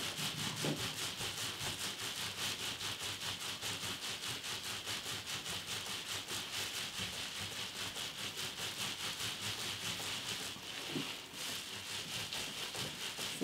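Hands rub wet nuno felt in a steady, fast back-and-forth swish, a soft, even rubbing texture that continues throughout at low volume with a couple of small bumps.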